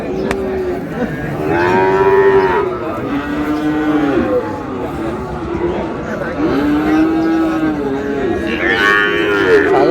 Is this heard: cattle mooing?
yes